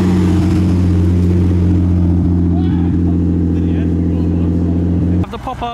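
A Nissan GT-R idles with a loud, steady low engine drone at a busy outdoor car meet, with crowd chatter in the background. The tone shifts abruptly near the end.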